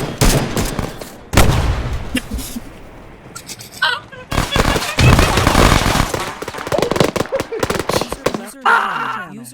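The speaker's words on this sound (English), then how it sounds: "All right, now we shoot each other." Gunfire from the Arma 3 video game, with dense, loud bursts of rapid shots and scattered single cracks running almost continuously, mixed with voices at times.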